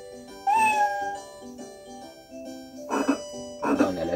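Synthetic game-style meows from a V.Smile Dora game (2005), a few cat calls over a light electronic tune, with bright chiming tones between them.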